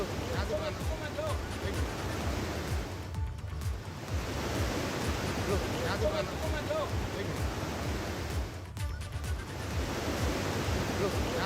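A rain-swollen river in Uttarakhand rushing past, a loud steady broadband roar of churning water with no letup, heard alone.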